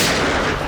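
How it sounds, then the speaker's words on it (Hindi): Gunfire in a TV crime-drama shootout, a dense burst of loud, close shots packed tightly together over less than a second, with no talking. "मुझे कवर करो और फायरिंग करते रहना"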